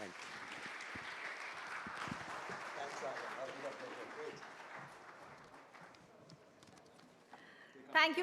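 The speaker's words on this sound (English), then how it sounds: "Let's give Vishal a big round of applause" Audience at a TiEcon Delhi 2024 conference on AI clapping for a speaker, a moderate round of applause that thins out toward the end, with faint voices near the close.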